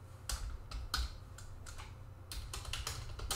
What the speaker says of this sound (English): So here I will just type demo scheduled job.